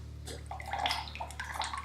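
Liquid clay slip pours out of a ceramic mould into a container, a brief, soft watery gurgle and splash that rises and falls, close and quiet, with no talk.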